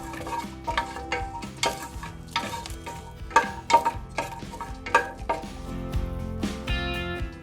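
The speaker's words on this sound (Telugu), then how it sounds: "4-5 బాదం పప్పులు, కిస్మిస్ ఒక 10. వీటిని బాగా ఫ్రై చేసుకోవాలి." Almonds and raisins fry in a pan under a faint sizzle while a spoon clinks and scrapes against the metal in irregular, distinct strokes, with no one speaking.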